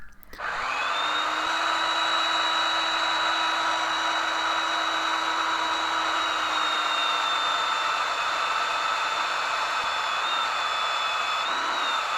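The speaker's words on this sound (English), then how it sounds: "I do this removal by sanding it using a belt sander upside down in a vise." A steady, high-pitched power tool whine runs continuously for about twelve seconds, with a constant grinding hiss, as a belt sander clamped upside down in a vise sands wood.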